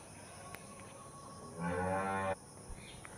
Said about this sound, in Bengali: তোমরা কি শুনলে এখানে হাম্বা গরুটা কেমন ডাকছে?